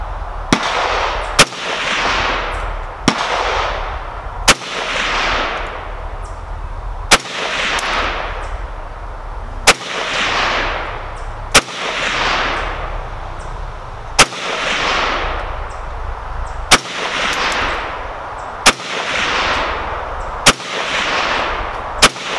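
Russian, Chinese and Yugoslav SKS rifles fired at a 100-yard outdoor range, a dozen loud sharp shots at a slow steady pace of one every couple of seconds, each trailing off into ringing echo, with no talking.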